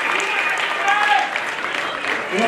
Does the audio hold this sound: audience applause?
yes